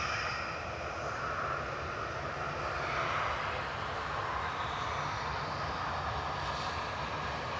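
A Ryanair jet airliner lined up for takeoff at Manchester Airport produces a continuous, fairly distant engine roar with a broad hiss that swells gently midway and holds steady, with no voices over it.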